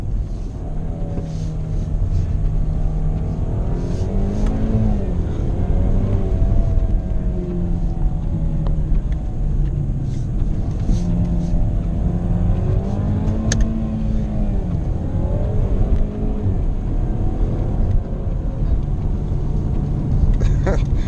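A Jaguar XE 25t drives through a series of corners, its engine droning and swelling as it accelerates and eases off, with a person talking over the cabin rumble.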